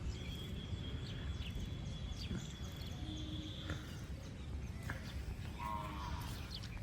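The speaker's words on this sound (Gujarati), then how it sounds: "બીજી ગૌ માતા પેલી બાજુ છે એ બાજુ બધી ચરી રહી" Kankrej cows grazing outdoors on a farm, with a faint low moo rising briefly over steady ambient rustle and distant farm noise.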